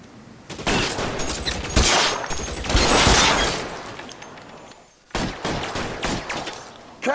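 Heavy gunfire crackles through a shootout in the video game L.A. Noire, with dense loud volleys in two bursts separated by a brief lull.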